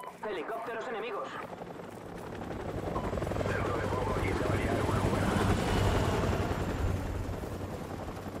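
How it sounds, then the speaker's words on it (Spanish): Helicopter rotors in Call of Duty: Modern Warfare Remastered thrum continuously and swell louder toward the middle, mixed with bursts of distant gunfire and battle noise. "Ahí va el helicóptero, eh."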